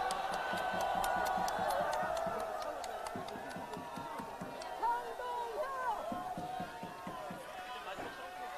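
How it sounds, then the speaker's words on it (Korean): A large outdoor crowd at a People Power Party protest rally cheers and claps, a dense roar of voices with scattered sharp claps that eases slightly toward the end. "우리 국민의힘을 이끌고 계시는 장동혁 대표님께 여러분 다시 한번 큰 격려와 함성을 보내주시기 바랍니다."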